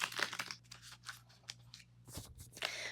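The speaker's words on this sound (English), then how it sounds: "We'll start by shuffling our red cards." Paper-like cards are shuffled by hand in a quiet room, a soft irregular run of riffling, flicking and crinkling sounds that rises and falls for a few seconds.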